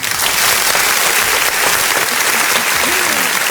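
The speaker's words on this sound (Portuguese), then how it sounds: "Uma salva de palmas." Loud, dense applause from a live audience fills the whole stretch, steady and continuous with no talk over it.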